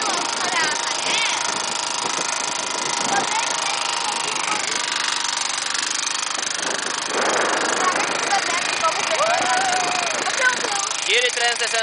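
Small lawn mower engine driving an adapted inflatable boat on tidal water, a steady buzzing drone running throughout with people talking over it.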